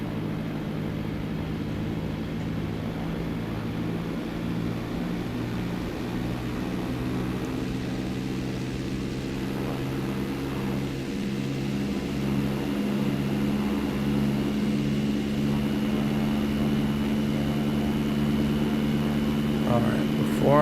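Airliner engines throttle up in a flight simulator game, a steady low drone with tonal hum that slowly grows louder while someone talks over it.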